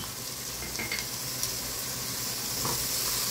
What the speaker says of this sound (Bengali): এখন পেঁয়াজটা ভালো করে একটু ভেজে নিব।